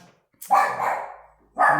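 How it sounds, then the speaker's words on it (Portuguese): Small pet dogs bark nearby at a house in two loud, sharp yaps, the first drawn out and the second starting just as the sound cuts off. "Tem que pedir para os meus cachorrinhos ficarem quietos também"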